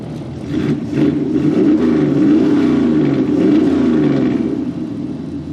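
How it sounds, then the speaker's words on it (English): A 1966 Ford Mustang restomod idles at about 760 RPM, a loud, steady low engine rumble that holds evenly close by for several seconds with no talking. "It's sitting here at idle. Let's see, RPM is about 760."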